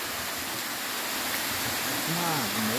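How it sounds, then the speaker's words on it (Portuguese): Carrapato waterfall in Brumadinho, a steady roaring rush of falling water close by, with a voice speaking briefly over it near the end. "Como é que é o nome dessa cachoeira? Essa aqui é o Carrapato."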